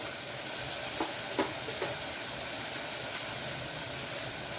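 Onion, tomato, coriander and curry leaves sauté in a pan for a mutton gravy, a steady close sizzle broken by a few light stirring knocks, with no voices.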